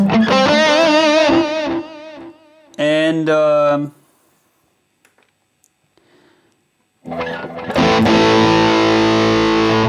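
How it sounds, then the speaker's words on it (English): Electric guitar lead tone from a boosted AC30 amp model on a Vox Tonelab SE, played on a Harley Benton Fusion 3, loud and distorted in two phrases, then near-silence and a sustained ringing passage, with one brief spoken word. "if you boost the AC30, you can get really nice lead tones"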